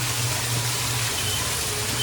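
Waterfall at Happyfunland park in Surunga, Jhapa, a steady broadband rush of falling water, loud and continuous throughout with no breaks.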